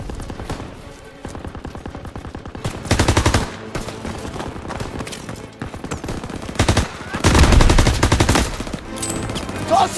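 Enemy machine gun firing from a hayloft in the World War II shooter Call of Duty: WWII, heard as loud repeated bursts of automatic fire amid battle noise, with the heaviest bursts near the start and toward the end.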